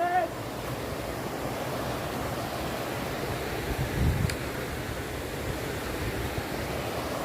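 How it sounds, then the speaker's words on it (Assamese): A main river flows past a picnic spot with a steady, close rushing wash of water, with faint voices briefly audible beneath it. "মেইন নদীটোক লৈকে আহিছোঁ চাউণ্ড দেখছি না মেইন নদীটোৰ"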